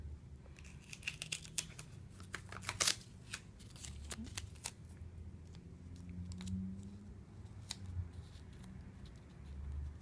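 Tape is pulled and wrapped around paper triangles for a small pyramid catapult, making faint, irregular sticky rips and crinkly paper rustles at close range, without speech.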